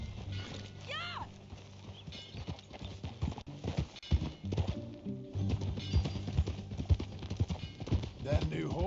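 Horse hooves clip-clop steadily in Red Dead Redemption gameplay, with a brief whinny near the start, all under ongoing talk and background music.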